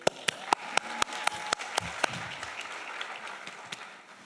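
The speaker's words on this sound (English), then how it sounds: "A round of applause for Mr. Hussein as he walks up here." Scattered hand claps from an audience at a school honors night: a handful of distinct, sharp claps spaced out over a faint background of lighter clapping that tapers off.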